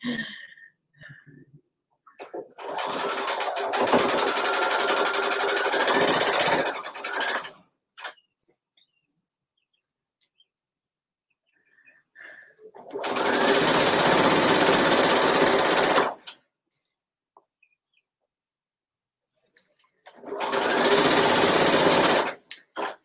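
A sewing machine stitches a seam in printed plaid fabric, running in three loud sustained bursts of several seconds each, separated by near silence.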